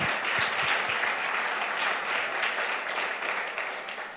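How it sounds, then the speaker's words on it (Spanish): A church congregation gives God a loud, sustained round of applause, dense steady clapping from many hands filling the room from start to finish. "Dale un fuerte aplauso a Dios."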